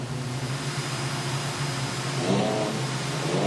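Production sedan race cars charging around the dirt oval at Maryborough Speedway, a continuous engine roar with a low drone that grows slightly louder as the pack passes, heard at a distance without talk.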